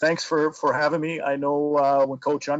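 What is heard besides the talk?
No everyday noise stands out behind the speech.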